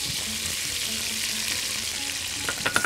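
Chopped onions sizzle and fry in a hot pan, a steady loud hiss with faint crackles and a few stirring clatters near the end, no talk over it.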